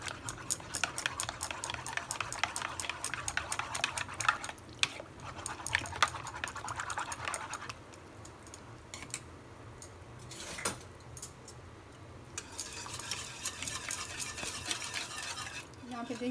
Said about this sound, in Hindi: इसको अच्छे से मिक्स कर देंगे।